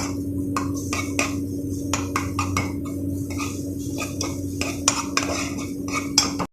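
Garlic in a little oil is stirred in a pan, producing quick repeated clinks and scrapes of a metal utensil against the cookware over a low steady hum, with no talking.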